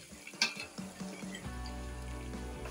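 Curry powder frying in a hot pan of oil for jollof rice, a steady sizzle that settles into a continuous hiss after a brief clatter, close and fairly quiet, with no talking.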